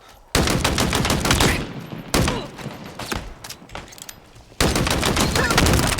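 VK78 rifle firing in Halo Infinite multiplayer, loud rapid bursts of gunfire in several long strings with brief gaps between them.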